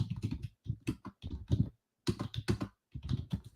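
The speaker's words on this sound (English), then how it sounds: "I'm going to be typing into our chat as we're doing there" Fast typing on a computer keyboard during a morning day-trading session, entering messages into a WebEx chat: close, dense bursts of keystrokes broken by short pauses, with no talking.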